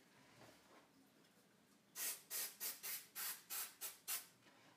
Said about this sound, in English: put this low-tack spray adhesive on the back of the stencil, which I'll spray just off camera over here